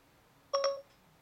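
A muted iPhone plays Siri's activation chime: a short, bright two-note electronic tone, loud and clear against near silence.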